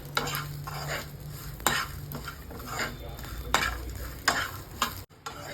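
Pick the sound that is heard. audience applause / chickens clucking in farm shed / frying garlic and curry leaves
frying garlic and curry leaves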